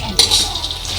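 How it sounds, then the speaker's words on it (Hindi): Puffed fox nuts (makhana) sizzle in a little ghee, with a sudden clink of a utensil against the pan followed by a bright, steady frying hiss for under a second, heard close. "ये फूल मखाने हैं और ये थोड़े से ऑयल में मैं इनको फ्राई करने लगी हूँ"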